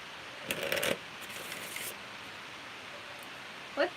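Tarot cards shuffled in a pick-a-card reading, a brief crisp riffle with papery rustling, then quiet, and a final short snap of cards near the end, close and fairly soft.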